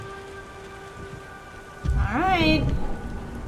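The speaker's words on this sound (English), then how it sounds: "God damn rain. Looks like it's ever gonna rain." Rain and a rolling thunder rumble from the video game Beyond Two Souls: steady rainfall under a low tone, then a loud swelling crash of thunder halfway through that lingers. A voice speaks briefly.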